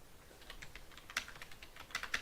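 Quiet keystrokes on a computer keyboard as a router password is entered, an uneven run of light clicks with a few sharper taps, close and alone.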